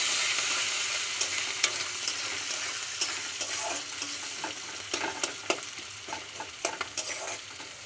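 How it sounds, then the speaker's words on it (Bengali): Onions sizzle in hot oil with garam masala, bay leaf and dried red chilli for a Bengali fish kalia, a steady soft frying hiss punctuated by repeated clinks and scrapes of stirring, with no talk. "পেঁয়াজটা একটু ভাজা হোক"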